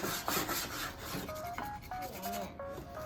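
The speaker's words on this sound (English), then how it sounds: "Before I called it they were done, I had to do some more sanding." Wood is hand-sanded for a hand saw rack in a rapid back-and-forth rasping that runs close and continuous, with brief squeaky tonal scrapes during the later strokes.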